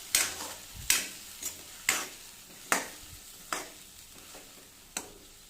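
A spoon stirs turmeric, coriander powder and chili powder into tomato rice frying in a pan, giving about eight sharp scraping clicks at uneven intervals over a soft sizzle, close and clear with no talking.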